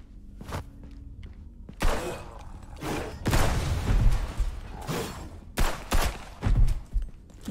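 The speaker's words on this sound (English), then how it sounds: "i fucking blew him up with a mine" A landmine blast in the video game Charlie the Legend goes off with a heavy boom, set among several other loud, sharp bursts and thuds scattered across a few seconds of in-game action.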